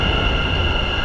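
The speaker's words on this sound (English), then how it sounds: "We're loading on the train right now to get to Amsterdam Central." A train in the Netherlands bound for Amsterdam Central, a loud steady rumble with a constant mechanical drone.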